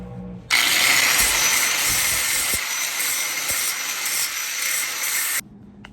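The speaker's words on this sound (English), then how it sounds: "I just have to like clean up the metal and give myself a nice clean welding surface" Metal being cleaned up with a power tool on an E30 drift car rear end to prepare a welding surface: a loud, steady abrasive grinding that runs about five seconds, starting and stopping abruptly.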